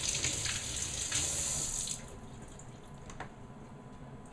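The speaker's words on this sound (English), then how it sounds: "rinse it off." Kitchen tap water running over a red fruit being rinsed, a steady close hiss of flowing water that softens midway as the stream is partly blocked, continuing quietly to the end.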